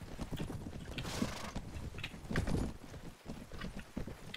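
Cavalry horses in the medieval battle game Mount & Blade: Warband, a continuous, irregular clip-clop of many hooves at moderate distance over a busy, muffled background.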